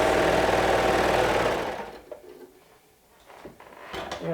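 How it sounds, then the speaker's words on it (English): Sewing machine running a half-inch seam on fabric, one dense mechanical stitching burst that stops after about a second and a half, followed by quiet handling clicks and rustles. "And I'm sewing half an inch."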